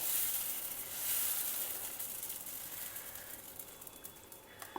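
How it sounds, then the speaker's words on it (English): Dosa batter for benne dosa hits a hot pan with a bright, steady sizzle that is loudest at first and slowly fades into a softer crackling hiss, with no talk. "Now pour out the dosa batter"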